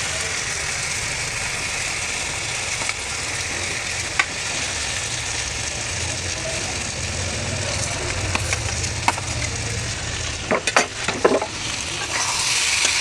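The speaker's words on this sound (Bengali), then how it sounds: "আলুগুলো মশলার সঙ্গে মিশিয়ে নিলাম" Fried potatoes are stirred into spice masala in a sizzling pan, with steady frying hiss throughout and scraping clinks of a spoon near the end, close and fairly loud.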